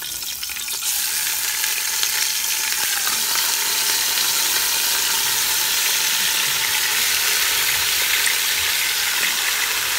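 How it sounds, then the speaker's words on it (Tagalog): A pork leg sears in hot oil in a pan, giving a loud, steady, crackling sizzle that runs close and unbroken throughout, with a few light scrapes near the start. "Isisir natin ang ating pata."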